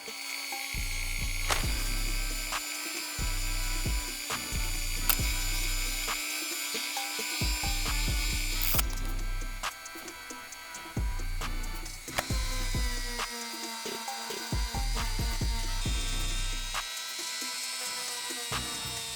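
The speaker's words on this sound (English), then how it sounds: "I'm gonna finish the prep work by using the Dremel" A Dremel rotary tool roughening the material of a Nike Dunk sneaker before gluing the sole: a high, steady motor whine with tonal hum, close and continuous, broken by brief scraping contacts and small shifts in pitch, with no talking.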